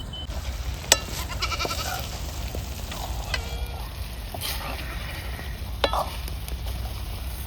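Spiced goat tripe sautéing in a pan, a continuous close sizzle with scattered clinks and scrapes of the stirring spoon, over a low background hum.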